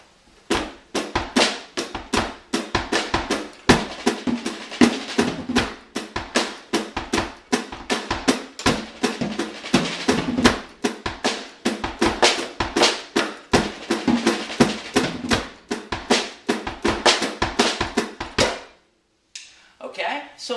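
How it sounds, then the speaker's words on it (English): A drum kit plays a fast, dense groove with a Mission Impossible paradiddle lick used as a fill, loud and close, a steady stream of sharp hits that stops abruptly near the end. "using that Mission Impossible paradiddle lick as a fill, which would sound something like this."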